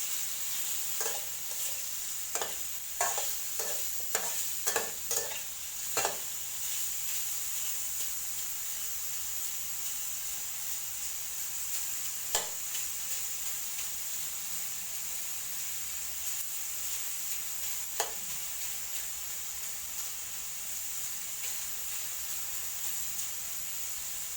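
Pork belly frying in a pan, rendering its own fat before garlic goes in, gives a steady close hiss and sizzle. Several quick utensil scrapes and clicks come early, with a few later, and no one talks.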